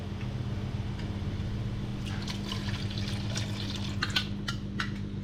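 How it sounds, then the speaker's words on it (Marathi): Water trickles and splashes into simmering masala for a red snapper fish curry, soft bubbling and pouring over a low steady hum, fairly quiet. "तर आपण थोडा थोडा पाणी घालणार आहोत"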